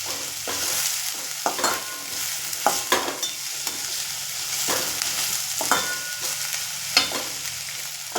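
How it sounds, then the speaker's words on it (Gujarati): Vegetables for rava upma frying in oil over a low flame, a steady close sizzle broken by repeated sharp scrapes and clicks as a spoon stirs them around the pan. "એકદમ ધીમા ગેસે આપણે બધું જ વેજીટેબલને ફ્રાય થવા દેવાનું છે."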